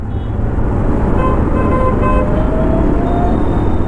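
A new 2025 Honda Activa 110cc scooter makes a U-turn on a busy road, its small engine humming under a continuous wash of passing traffic and wind, with faint horn toots in the background.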